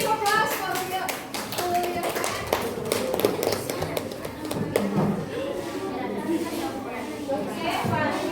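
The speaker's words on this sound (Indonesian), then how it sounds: "Give applause for your" Applause for a student group in a school classroom, with clapping hands and taps running steadily throughout amid children's chatter and voices talking over it.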